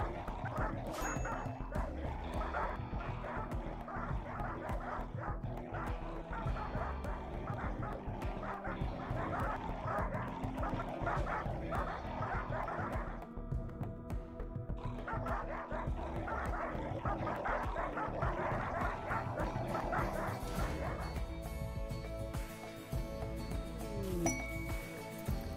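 Dogs bark, yip and whimper in the colony game RimWorld after newborn puppies arrive, with short repeated barks over game music and light clinking effects.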